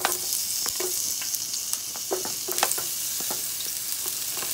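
Red onion sizzles in hot oil for Jamaican jerk chicken rasta pasta. The frying hiss is steady, with crackles and small stirring clinks throughout, and no one speaks.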